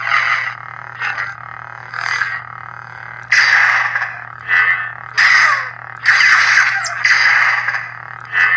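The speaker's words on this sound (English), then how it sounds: "The default sound effect sounds pretty good." The default sound of an Ultrasabers Crimson Dominicide lightsaber: a humming buzz swung repeatedly, with loud crackling clash bursts and swooshes over a constant low drone.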